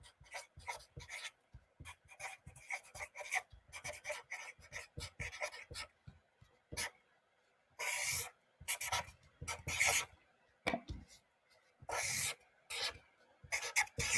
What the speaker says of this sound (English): All right, let me write this down.